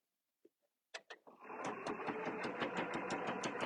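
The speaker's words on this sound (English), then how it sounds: "let's go ahead and sew further down to our line" A sewing machine stitches quilt binding: a few soft clicks, then a steady, fast mechanical whir of the needle running continuously, close up with no voices.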